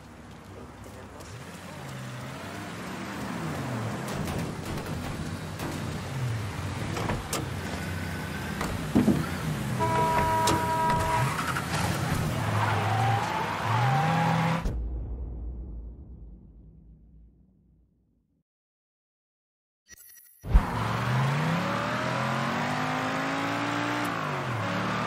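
A car engine in the Mafia III game, set in Frisco Fields, runs and revs with a steady drone, then cuts out into silence before starting up and driving again. A voice talks over it.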